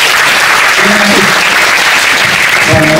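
An audience at a book discussion breaks into loud, dense applause that fills the room, with a voice or two faintly audible through the clapping.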